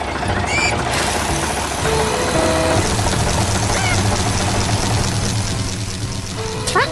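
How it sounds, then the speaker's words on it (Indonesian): A large animated tractor digging soil produces a continuous low engine rumble with a knocking, vibrating idle, steady and close, with faint scattered high-pitched effects layered over it. "Traktor besar sedang menggali tanah dengan cepat, membuat tanah berdebu dan mengangkat pasir ke udara."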